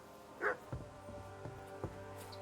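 A dog in the medieval video game Kingdom Come: Deliverance II gives one short bark followed by a few soft yips or whimpers, faint under steady game ambience.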